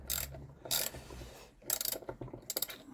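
A ratchet works loose the sump bolts on a Villiers Mk12 engine, giving bursts of close, rapid clicking separated by short pauses, with no talking.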